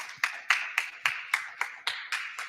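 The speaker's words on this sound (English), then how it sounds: "Let's give them a round of applause." A single pair of hands claps about ten times at an even pace, sharp and close, for a panel at a digital divide event, with no crowd filling in behind.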